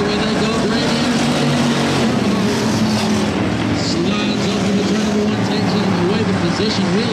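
Stock V8 race cars roar around a track during a heat and feature race, a continuous loud, rising and falling engine drone with a track announcer talking over it.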